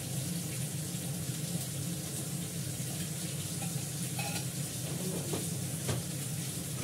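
Spices with salt, turmeric and sugar fry in a pan, giving a steady close sizzle with faint clinks and stirring scrapes throughout and no voices.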